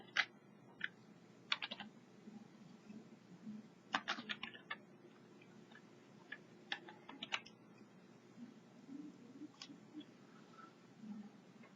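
Computer keyboard typing in short irregular bursts of crisp clicks, near and moderately loud over a faint steady background hum, with brief pauses between runs of keystrokes.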